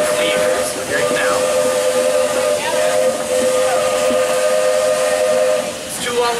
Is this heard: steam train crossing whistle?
yes